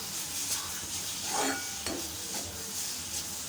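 Ragi flour and peanut mixture stirred in a pan over a low flame, a steady soft scraping with light sizzling and a few louder strokes of the spoon near the pan, no voices.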